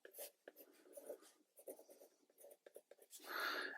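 A pen scratches across a new Fome Italia paint palette in close, quiet bursts of short strokes with brief pauses between, ending in a longer scribble and a faint squeak.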